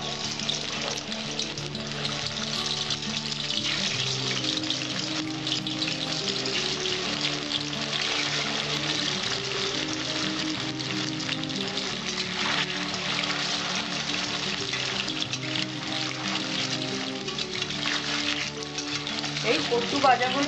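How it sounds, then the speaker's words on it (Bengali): Taro (arbi) pieces frying in hot white oil, a steady dense sizzle and crackle running the whole time under soft background music. "তেলটা গরম হয়েছে, এইবার আমি কচুগুলো ছেড়ে দিচ্ছি।"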